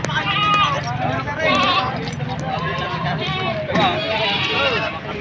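A goat bleats several times amid lively crowd chatter at a goat market in Padre Garcia, Batangas, the cries wavering and overlapping with the busy hubbub of price bidding.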